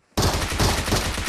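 Sustained rapid gunfire from a weapon loaded with rusty bullets in the Metro Escape video game, a dense, loud burst of shots firing continuously after a short silence.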